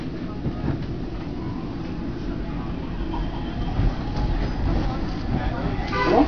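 A SEPTA Market-Frankford Line subway train pulls away from a station, a steady low rumble with rising rail noise and faint clatter as it gains speed, heard from inside the car.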